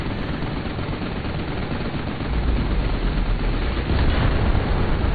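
Sustained gunfire and blasts in a Final Fantasy XV boss fight against Magitek machines, a dense, noisy roar of shots that grows louder partway through and stays intense to the end.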